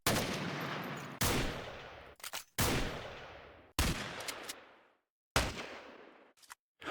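Four loud, sharp gunshot sound samples for bass design, each with a long decaying tail, spaced about a second and a half apart, with brief clicks between.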